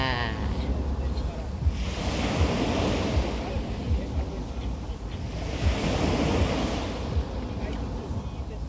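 Ocean waves breaking and washing ashore at a beach near Barcelona, Spain, steady loud surging surf in two broad swells with wind rumble across the microphone.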